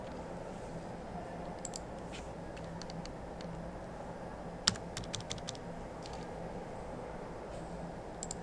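A password being typed on a computer keyboard, with scattered single key clicks and a short quick burst of taps midway, faint and close over a low steady background hum.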